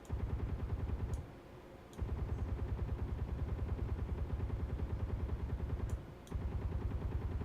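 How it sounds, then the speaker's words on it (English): Rapid automatic weapon fire in Space Engineers, a fast, even stream of rounds with two brief pauses between long bursts, steady and fairly faint as if heard from a distance. "It's hard to tell if those rounds are even impacting at this distance."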